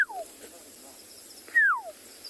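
A bird's call at sunrise on a safari in the Tswalu reserve: two clear, descending whistled notes, one short and one longer about a second and a half later, over faint background hiss.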